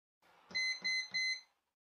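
A Gossen Metrawatt Metrahit Energy multimeter sounds three short, crisp continuity beeps in quick succession, close and clear against silence.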